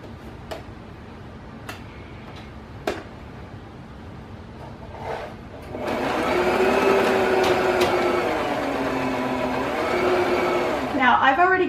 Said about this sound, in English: we're ready to go ahead and start sewing this, and I'm gonna do a 1/4 inch seam